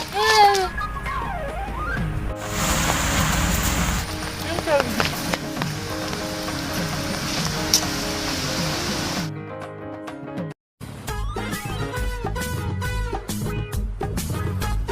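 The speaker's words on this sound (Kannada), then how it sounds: "ಎಂತ ಮಳೆ ಮಾಡಿ" Steady rain hisses broadly in the middle of the scene and fades out abruptly, while people talk over it and around it.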